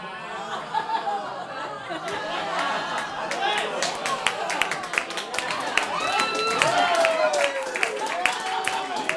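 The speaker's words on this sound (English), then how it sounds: "He's clapping." A comedy club audience claps and laughs with scattered cheers while a comedian keeps talking over the crowd; the clapping is dense and crisp and runs throughout.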